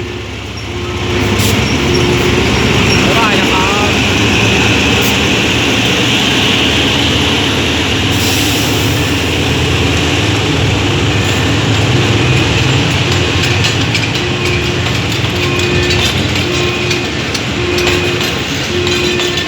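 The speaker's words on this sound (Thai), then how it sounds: "ขบวนรถชานเมืองขบวนที่ 391 นะครับ ออกจากสถานี รถไฟป้ายหยุดรถพญาไทเป็นที่เรียบร้อยแล้วนะครับ" Suburban train 391 hauled by diesel locomotive GEA no. 4554 pulling away from Phaya Thai halt in Bangkok, a steady rumbling drone with clanking and a metallic squeal, close and continuous, without talk.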